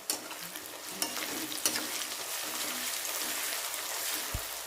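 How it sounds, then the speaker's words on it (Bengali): Chopped onions, about 150 grams, fry in hot oil with bay leaf, a steady close sizzle with a few sharp spatters and scraping stir strokes throughout, no talking. "এবার আমি অ্যাড করব 150 গ্রাম মতো কুচো পেঁয়াজ। পেঁয়াজটাকে আমাদের খুব ভালো করে ভেজে নিতে হবে।"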